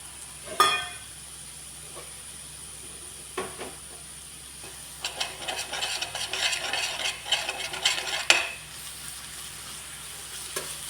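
Cabbage and egg thoran stirred in a pan: a soft, low sizzle with an early clank, then a busier stretch of scraping and tapping from the spoon against the pan, close and moderate in level.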